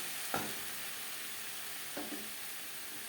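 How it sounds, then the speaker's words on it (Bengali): Pea greens (motor shak) stir-fry quietly in a pan over high to medium flame, a soft steady sizzle broken by two light scraping stirs. "তিনটে মিনিট হাই টু মিডিয়াম ফ্লেমে নাড়াচাড়া করে নেওয়ার পর"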